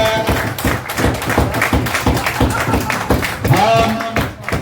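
Crowd applause welcoming guest Izzat Kamal Pasha at the National Press Club: dense, steady clapping across the whole stretch, mixed with background voices and chatter.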